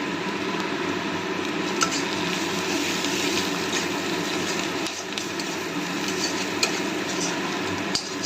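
Onions and green chillies frying in a pan with turmeric and salt added, a dense, continuous sizzling hiss at close range with faint stirring and occasional small clicks.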